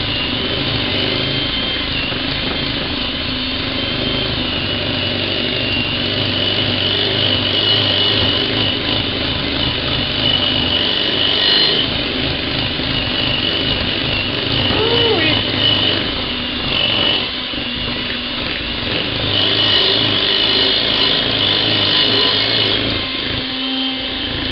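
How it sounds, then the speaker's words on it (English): Electric hand mixer beating cake batter for stuffed cupcakes, a steady close whirring motor drone that runs continuously for the whole stretch with slight shifts in pitch as it works through the bowl. "Just going to mix the cake."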